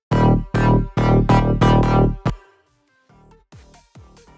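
Layered synth bass sounds made in Serum play together as loud, punchy stabs in a steady rhythm. They cut off abruptly, and a quieter echoing tail of hits follows.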